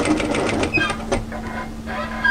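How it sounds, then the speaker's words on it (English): A sewing machine stitches a 1 cm seam around a curve on a cropped, tailored knit military jacket, its needle running in a fast, steady, close-up whir with a brief pause in the middle. "continue sewing a 1 centimeter seam, 3/8 of an inch, around that curve"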